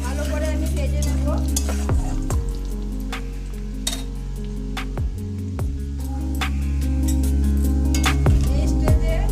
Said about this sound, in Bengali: 1 চামচ রসুন কুচি, ভালো করে আমি ভেজে নেব।